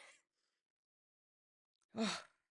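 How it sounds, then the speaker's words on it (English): A person takes one deep, audible breath in, close and fairly loud, following a faint breath at the very start and a long stretch of near silence. "what I want to do is just take another deep breath because I need to"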